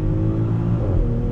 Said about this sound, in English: When it shifts, you can hear a little bit of a burble come from the exhaust.